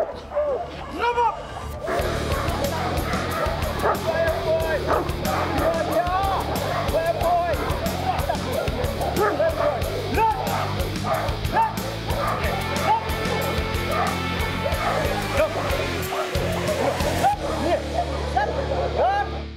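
A dog barks repeatedly throughout, the yips and barks mixed with continuous talk and background noise, fairly close and loud.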